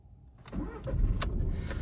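Key turned in the ignition of a 2013 Seat Ibiza, a brief cranking whir that catches into a running engine, close by and moderately loud with a few clicks over it.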